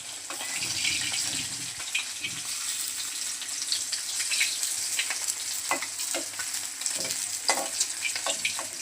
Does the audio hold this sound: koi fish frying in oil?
yes